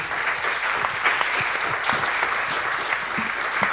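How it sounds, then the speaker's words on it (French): Steady audience applause for three guests at a poetry round-table, a dense even patter of many hands clapping throughout, moderately close and unbroken. "Je crois qu'on peut applaudir nos trois invités."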